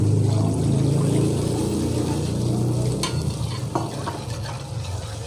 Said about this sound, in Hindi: और साथ ही में मैं इसमें पानी डालूंगी।